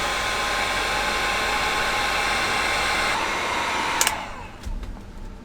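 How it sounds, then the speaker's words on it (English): A heat gun blows hot air onto solder-seal wire connectors during a Sprinter van conversion, producing a steady, close whooshing hiss that cuts off near the end, followed by a few small clicks and handling noises. "So you just use a heat gun to do that."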